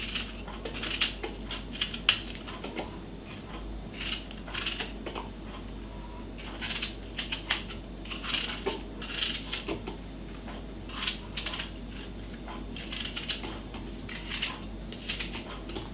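A knife cuts an apple with its seeds left inside, giving repeated crisp, close chopping taps against a board in an irregular rhythm, with quiet kitchen handling noise between strokes.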